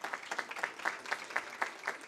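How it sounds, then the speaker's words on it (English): An audience at a campaign launch event claps, a short run of evenly spaced, fairly faint hand claps. "Please clap for her."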